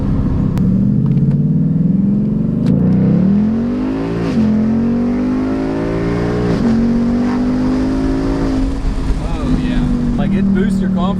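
A Ford F250 pickup with a 6.7 Powerstroke diesel and a new oversized turbo drones loudly under load, revving steadily with the pitch climbing and dipping across several gear pulls, constant engine roar throughout.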